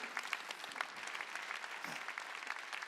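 Steady applause from a church congregation at a Sunday worship service in Incheon, dense and continuous clapping throughout, moderately distant and fairly even in loudness.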